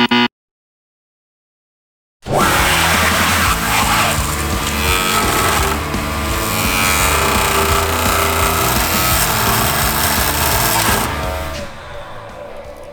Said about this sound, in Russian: нет смысла дальше продолжать пилить шоколадку, потому что она очень твердая и очень толстая